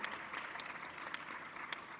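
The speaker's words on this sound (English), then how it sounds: "You want to clap for that as well." Steady, moderately faint applause rises from the audience during a keynote speech at a national women's summit and expo, with a few louder individual claps over a continuous crowd wash.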